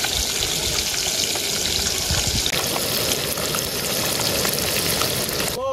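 Small freshly caught pond fish sizzle and crackle in hot oil in a pan at an outdoor village market in Bengal, a loud, steady frying hiss throughout.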